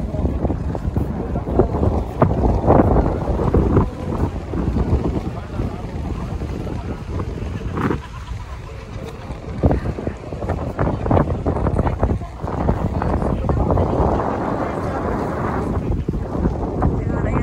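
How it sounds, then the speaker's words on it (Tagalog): Strong wind buffets the microphone in gusty, rumbling bursts at Fortress Hill by Victoria Harbour, Hong Kong, with a brief calmer lull midway before picking up again. "Hangin."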